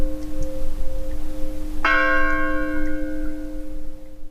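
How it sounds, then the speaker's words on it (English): A single church bell strikes once and rings out with a long, shimmering decay over a low steady hum, close and clear with no voices. "we use these church bells in certain episodes to separate"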